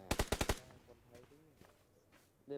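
Gunfire in the mobile battle royale game PUBG New State: a rapid burst of about five loud, close shots at the start, followed by quieter game ambience and faint talk.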